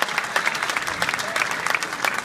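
Audience applause at a mushaira poetry gathering, brisk and dense with individual claps popping through the wash, continuing briefly at moderate loudness.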